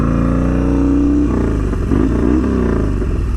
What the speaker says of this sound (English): Yeah, this bike is damn fast.